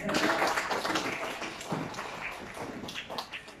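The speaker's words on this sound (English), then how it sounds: "Let's give them a round of applause." A crowd applauds at a graduation ceremony in a large room, a steady wash of many hands clapping that is loudest at the start and thins gradually, moderately distant.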